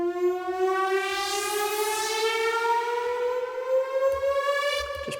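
A synth riser built for house, garage and tech house tracks: a bright, buzzy tone with rich harmonics climbing slowly and steadily in pitch, with a faint, low pulse beneath it and a brief shift right at the end.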